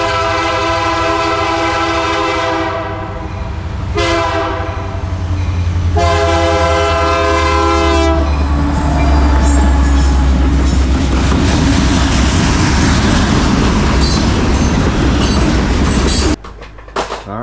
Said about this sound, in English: So happen to come out and just catch a train coming past.